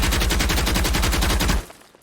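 A video game gun fires a rapid, even burst of shots, loud and close, for about a second and a half before abruptly stopping.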